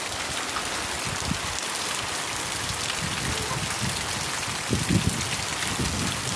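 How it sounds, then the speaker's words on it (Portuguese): A heavy downpour of rain on farmland, a thick continuous wash of drops close by, with a few louder splattering bursts near the end and no talking. "E pancadona boa da chuva."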